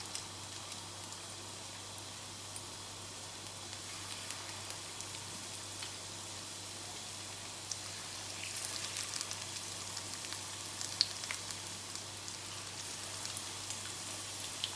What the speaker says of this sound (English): So now I'm going to start to fry this chicken in medium heat of temperature.